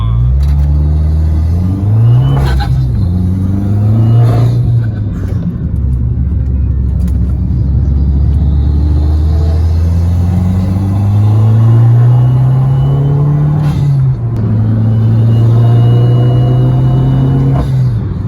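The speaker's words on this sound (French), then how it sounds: "L'échappement derrière, il fait un bruit." At a car meet, a car's exhaust rumbles loudly and close, its deep engine note rising and falling through repeated revs, with faint voices in the background.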